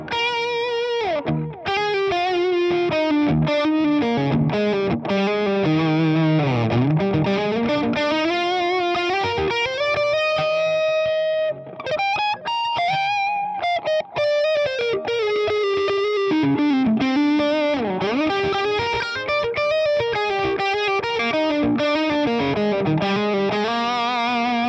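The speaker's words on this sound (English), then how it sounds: "Let's turn a delay on." An electric guitar runs through a distorted Orange amp model in AmpliTube 5 with a delay effect, sustained notes and bends trailing off into repeating echoes, loud and continuous with no talking.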